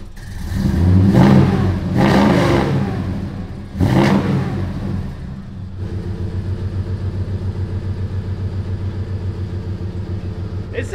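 A truck engine revs hard twice through the exhaust, then again, before settling into a loud, lumpy, rhythmic idle rumble close by.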